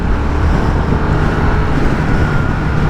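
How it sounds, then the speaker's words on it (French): Harley-Davidson Sportster S, a 2023 model, pulling hard under acceleration on the road, its engine a loud, steady, rough roar with constant wind rush and no pauses throughout. "Ah, le moteur il est un peu rageur quand même hein"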